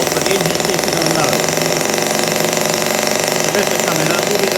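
Small Stirlingkit N12b model Stirling engine running steadily with a fast, even mechanical chatter, close and continuous for the whole stretch.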